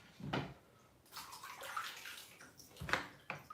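Water splashes and runs in a bathroom as a face is washed with tea tree soap before a bath, coming in a few short, soft bursts with quiet gaps between them.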